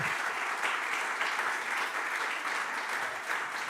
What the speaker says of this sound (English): So I ask you for an applause for the entire panel.